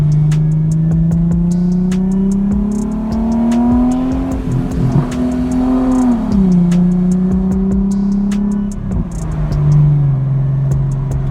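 A car with an automatic transmission at a car meet accelerates hard, its engine note climbing loud and close, then dropping at two gear shifts before rising again.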